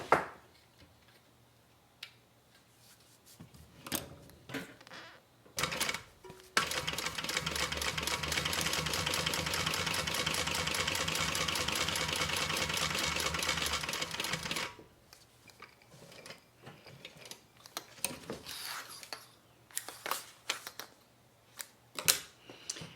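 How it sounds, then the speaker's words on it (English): A sewing machine top stitches a thigh bag pocket in one steady, close, continuous run of about eight seconds, framed by quieter clicks and handling of fabric and clips. "So we're going to top stitch this."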